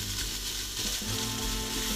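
Bolognese sizzles in a pan on an electric stove at nearly the highest heat, a loud steady crackle that fills the whole clip with no talking.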